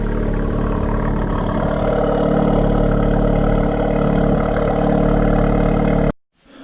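A Honda Civic Type R with a PRL catted downpipe idles loudly and close, a deep steady rumbling exhaust drone that holds for several seconds before abruptly cutting off.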